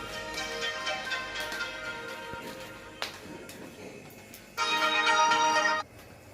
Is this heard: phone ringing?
yes